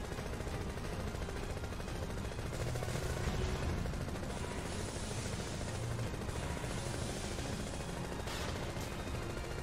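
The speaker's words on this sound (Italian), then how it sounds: "sono esattamente degli spari." Rapid bursts of gunfire in Final Fantasy 7 crackle continuously over a dense, noisy background rumble, loud and close, with no clear speech.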